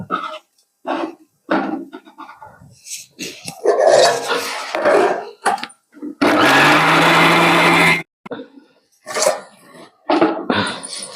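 A kitchen mixer grinder whirs through tamarind chutney in a loud two-second burst, with short bursts before and after and talk in between.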